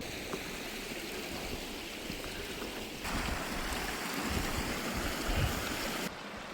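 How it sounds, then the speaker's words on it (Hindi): Continuous rushing water of a stream in Balimik Valley, Skardu, a broad steady hiss and rumble heard from some distance, growing slightly fuller midway, with no voices. "पानी का शोर यहाँ तक आ रहा है।"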